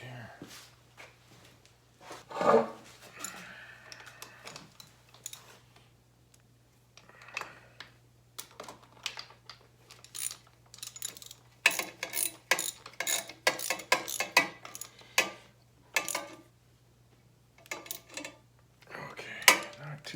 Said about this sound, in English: Ratchet here.